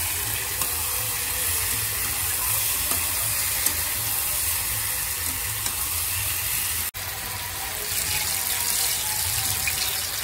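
Steady sizzling of gourd curry cooking in a pan, a continuous crackling hiss that stays even throughout, briefly cut off near the end.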